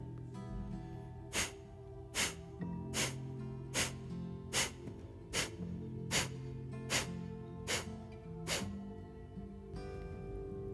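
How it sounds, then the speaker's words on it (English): Ten slow, deep yoga breaths, each inhale and exhale rising as a soft breathy rush at a steady, unhurried pace, close and clear over a quiet background hum. "Let's do 10 slow breaths together."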